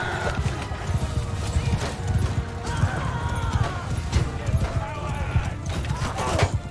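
Cavalry charging in Mount & Blade 2 Bannerlord, a dense clatter of hooves with occasional whinnies and battle din, running continuously under a voice.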